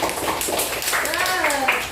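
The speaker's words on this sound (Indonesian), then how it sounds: "Pintar, tepuk tangan buat Ariana." Pupils in a primary school classroom clapping for a classmate, a brief burst of handclaps mixed with children's voices and chatter running over the top.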